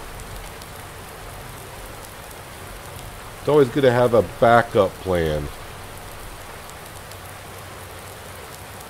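Steady rain falls in Farming Simulator 19, a constant even hiss of drops on surfaces that continues throughout while someone speaks briefly over it in the middle.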